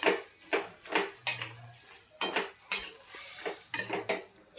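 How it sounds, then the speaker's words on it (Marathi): A spoon stirring asafoetida into a garlic pickle, giving repeated sharp metallic clinks and scrapes against the vessel at an uneven rhythm, close and clear with no talking. "काय आपण छान यामध्ये मिक्स करून घेऊया"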